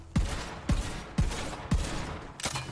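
A shotgun in the video game Borderlands 3 fires five heavy blasts at a steady rhythm of about one every half second. Each blast is loud and close with a deep thump and a short tail.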